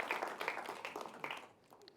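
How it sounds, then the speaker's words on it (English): Conference audience applauding two presenters: a brief burst of many hands clapping together that fades out within a couple of seconds, heard without speech. "Let's give another big applause to Prashanti and Carlo."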